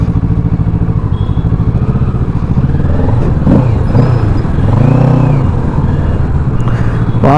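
Kawasaki Ninja 650 motorcycle engine running loud and close, revving with a steady low drone and pulling away, rising in pitch as it accelerates.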